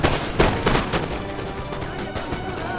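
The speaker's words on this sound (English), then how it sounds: "And my guys are shooting." Musket volleys ring out in a Napoleon: Total War battle between Ottoman and Swedish armies, dense overlapping rifle cracks rolling in a continuous crackle with a few sharper shots near the start.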